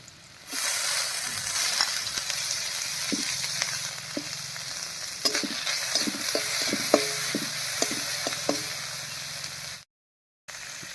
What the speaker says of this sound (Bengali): আস্তে দিয়ে একটু নাড়াচাড়া করে নিয়েছি